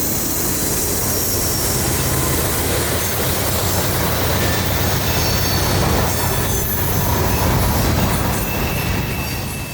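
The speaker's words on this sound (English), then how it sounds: "With the screeching rails and GE rumbling, I wouldn't need any much more notice to know that a southbound train was right at my doorstep." A southbound Norfolk Southern mixed manifest freight pulled by two GE locomotives rolls close by, wheels screeching on the rails over a loud, unbroken rumble.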